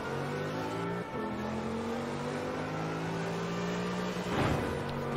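A car engine in Forza Horizon 4 revs steadily with rising and falling harmonic tones, holding loud and close throughout, with a brief dip and a sharp surge near the end.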